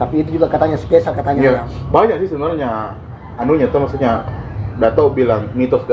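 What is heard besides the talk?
No everyday noises stand out.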